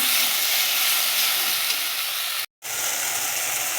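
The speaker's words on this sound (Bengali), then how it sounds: "মশলাটাতে একটু জল দিয়ে দেব। দিয়ে আরও একটু আমি কষাবো।" Water hits a frying spice paste in a pan, producing a loud, continuous steamy hiss and sizzle, close up, that cuts out abruptly for a moment before resuming.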